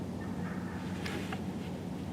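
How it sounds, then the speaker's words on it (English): Wild turkeys gobbling from somewhere below the listener at a Pennsylvania deer camp in the morning, faint distant calls over a steady outdoor background, with a couple of brief rising gobbles. "Those turkeys are all down below us. They're yelling."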